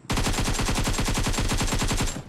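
Rapid automatic gunfire in a snowy nighttime battle-royale shooter game, a loud continuous burst of closely spaced shots at an even rhythm lasting about two seconds before cutting off.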